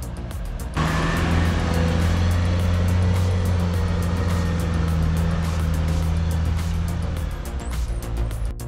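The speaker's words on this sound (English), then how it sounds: "There's Jürgen in his trusty Land Rover" A Land Rover 4x4 works along an off-road trail during a 4x4 challenge event, its engine droning steadily and loudly up close after a brief quieter lead-in, with no voices.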